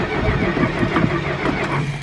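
A 1969 Plymouth Fury III with a carburetor needing work cranks and catches, then settles into a rough, lumpy idle with a loud, even rumble that runs throughout.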